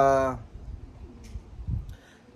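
Racing pigeons at a one-loft race give a brief burst of harmonic cooing at the start, followed by soft wing flutters and faint rustling nearby.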